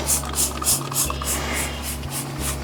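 Tire cleaner sprayed onto a wheel while washing the Wienermobile gives a steady close hiss, with regular pulsing spurts over continuous spray noise and no talking.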